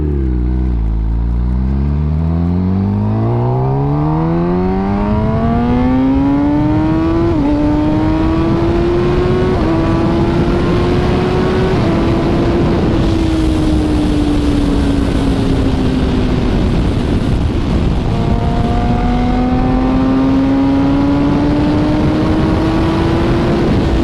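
A 2020 Kawasaki ZX10R fitted with an Akrapovic link pipe and slip-on exhaust revs hard and close, its loud engine note climbing steadily, then holding high, dipping and rising again across a long continuous run.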